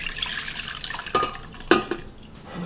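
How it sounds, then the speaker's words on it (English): Chicken broth from a pressure cooker pours into a measuring cup as a close, uneven liquid trickle with a few sharper splashes, with no voices. "Just going to pour out the liquid into a measuring cup."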